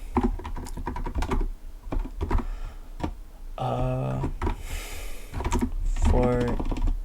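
Code typed on a computer keyboard while solving a coding problem: steady, close clatter of keystrokes in quick bursts, with a person talking over part of it.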